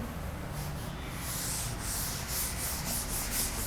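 A whiteboard or blackboard being rubbed clean in a classroom math lesson, a soft continuous swishing wipe, close and steady, with no talking.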